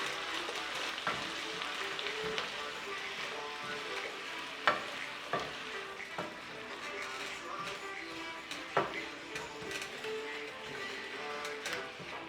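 Sweet peppers dropped into a hot frying pan with shrimp, a steady sizzle and crackle with occasional stirring clatters, close and continuous.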